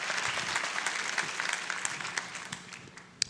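Congregation applauding during a church sermon, a broad spread of clapping that fades gradually as scattered individual claps linger toward the end.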